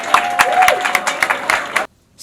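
Church congregation clapping in a burst of applause, dense rapid claps filling the room for under two seconds before stopping abruptly into near silence.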